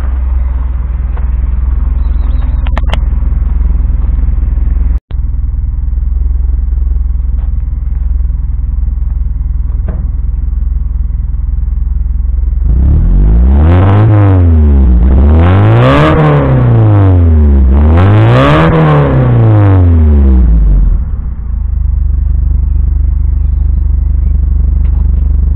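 A modified, lowered Ford Transit Mk3 van engine idles with a low steady drone, then revs up and down in three loud rising-and-falling blips before settling back to idle, with a sharp click early on.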